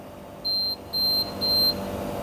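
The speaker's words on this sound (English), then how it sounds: "Now it's alarm coming because of the door open" Door-open alarm on a humidity test chamber gives three evenly spaced high electronic beeps, each about a quarter second long, clear and close above a low machine hum.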